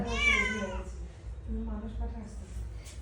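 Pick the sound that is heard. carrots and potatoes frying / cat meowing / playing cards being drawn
cat meowing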